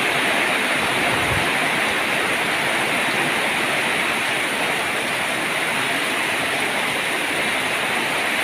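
Heavy rain pours down at Ban Kok Kod village in Thailand, a dense, even hiss of falling water that stays loud and unbroken throughout, with no voices.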